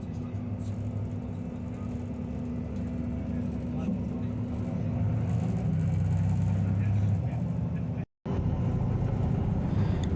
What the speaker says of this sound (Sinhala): හරි ඉතින් බස් එක ස්ටාර්ට් කළා.